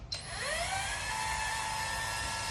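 A dual action polisher buffs oxidized paint on a 1997 Toyota Land Cruiser, a steady high whine that starts with a brief clatter and rises to a sustained close, loud drone, with no talking.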